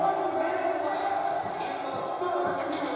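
Arena crowd in the NHL 22 video game cheering for the Hurricanes late in the third period of a Bruins vs Hurricanes playoff game, a steady roar under talk.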